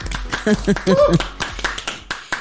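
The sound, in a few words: golf clap, light polite clapping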